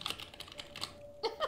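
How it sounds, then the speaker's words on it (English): Fast typing rattles on a computer keyboard in quick, irregular bursts of sharp clicky keystrokes, close and moderately loud, with no talk over it. "Are you typing an essay in the background?"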